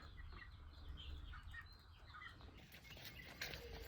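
Homestead chickens make soft, scattered clucks and chirps close by, with faint rustling and a brief flutter, all fairly quiet against background noise.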